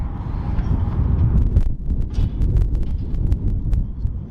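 Steady blustery wind roaring and buffeting against the microphone, with a few faint clicks and rattles mixed in, no talking.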